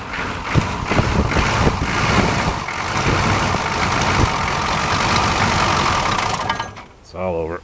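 The engine of a K5 truck runs rough after a cold start, a loud, close, uneven rumble with knocks and surges that fades near the end. A voice speaks briefly at the close.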